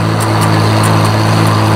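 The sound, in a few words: tractor mowing hay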